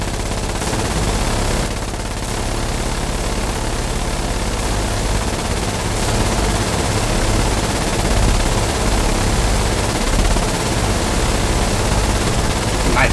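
Dense, sustained automatic gunfire in a video game battle against colonial artillery, loud and continuous for the whole stretch with overlapping shots and no pauses.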